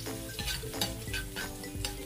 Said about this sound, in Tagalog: Ilagay na po natin yung ating luya.